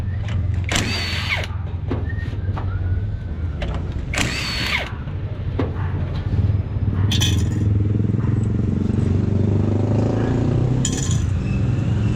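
Impact wrench bursts loosening the clutch housing bolts on a Kawasaki Barako motorcycle engine, several short loud rattling whirs over a steady low background hum, with metallic clinks between.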